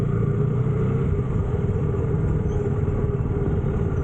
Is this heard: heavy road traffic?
yes